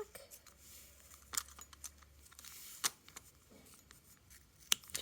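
Scissors trimming a diamond strap anchor on an Admiral Grace tote, giving a few faint, sharp snips spaced apart over a quiet background.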